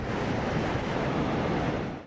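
Stormy sea surf and gusting wind from Cyclone Amphan on the Bangladesh coast, a steady, loud, unbroken roar of crashing waves and wind noise on the microphone, with no voices.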